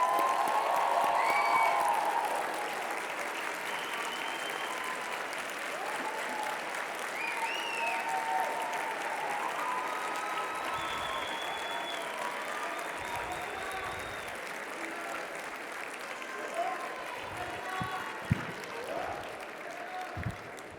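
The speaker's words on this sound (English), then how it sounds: "let us applaud you for your role in the accomplishments" At a midyear graduate commencement, an audience applauds the families of graduates, a long, even wash of clapping from a large crowd that stays steady for about twenty seconds, with a few voices and thumps near the end.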